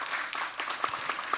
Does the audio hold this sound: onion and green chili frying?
no